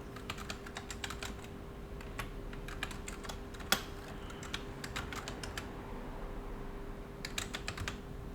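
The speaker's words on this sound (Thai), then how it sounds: "ให้เราพิมพ์ยูสเนมเข้าไปนะฮะ" Fingers tap steadily on a computer keyboard, typing a username and an email address, with quick clustered keystrokes, brief pauses and one sharper key strike, close and clear with no talking.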